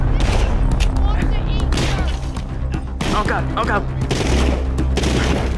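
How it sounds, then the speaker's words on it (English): Rapid gunfire in The Walking Dead: Saints & Sinners, a VR survival game, with bursts of shots crackling around the player near a tower, mixed with game voices and the player speaking. "I'm being shot."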